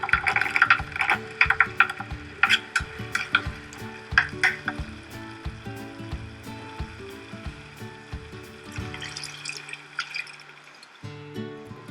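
Masala paste for an egg roast in coconut milk being stirred and fried in a pan, with splashes of water added, giving repeated scraping, clattering spoon strokes over a soft bubbling sizzle with no talking.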